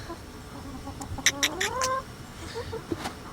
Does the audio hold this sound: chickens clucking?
yes